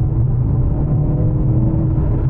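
A 2023 Mercedes-AMG C43's M139 engine rumbles deeply and steadily at idle or low revs, close and loud, with no voices.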